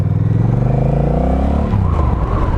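A Honda Rebel 1100 cruiser motorcycle pulls away, its low engine note rising through a gear change with a steady, loud drone close by.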